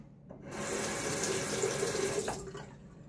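A bathroom tap runs steadily into a sink for rinsing after a shave, a close, even hiss of flowing water that starts abruptly and tapers off after a couple of seconds.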